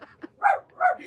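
A pet dog barks indoors, giving a short yip followed by two louder, fairly close barks about half a second apart.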